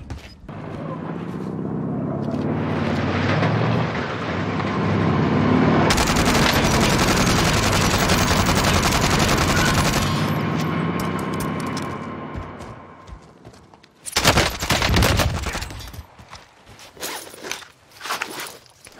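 OTS9 submachine gun fire at close range in the video game Warzone: a long sustained stretch of rapid automatic shots, then a pause and a few short, sharp bursts and rattling clatter near the end.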